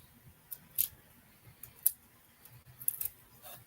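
Adhesive pieces peeled off a card front during a birthday card kit craft: a few short, crisp tearing pulls, close up and quiet, with no talk.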